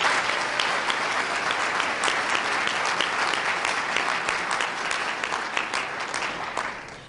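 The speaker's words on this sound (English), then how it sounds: "join me in a round of applause" Audience at a Black heritage celebration in Tampa applauds in a full, continuous burst of clapping that stays loud and then tapers slightly at the end.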